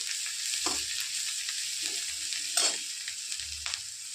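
Onions frying in a pan with coriander leaves tossed in, for wheat-flour rolls: a steady close sizzle with several stirring scrapes and clatters, no talking.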